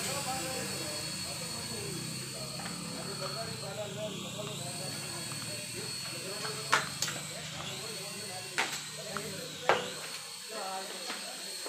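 A small LH-1802R dual-mode RC helicopter runs with a steady high-pitched rotor and motor whine that shifts in pitch. Someone talks over it, and a few sharp clicks and knocks stand out.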